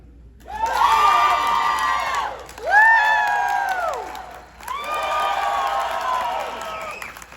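A Star Trek convention crowd cheers and whoops in three swelling bursts, each rising then trailing off, with brief dips between them.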